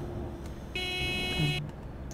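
Bus horn honking in the Bus Driver Simulator 2018 video game, one steady bright tone lasting under a second over a low engine hum, with no talking.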